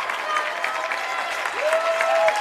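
Cheering and applause from the home crowd at a high school varsity boys basketball game, a steady wash of noise that swells slightly with a whistle-like tone near the end.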